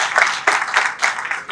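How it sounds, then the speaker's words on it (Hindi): Audience at an international medical conference clapping in short, loud bursts at close range, a few uneven waves of applause with no talk over them. "अब तालियां बजाइए।"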